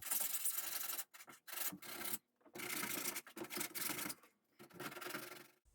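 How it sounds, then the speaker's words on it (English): Close-up hand sanding of a shelf and vent box on a small sailboat build: bursts of dry, raspy rubbing strokes in an irregular rhythm, separated by brief pauses. "Now I just got to do a little sanding."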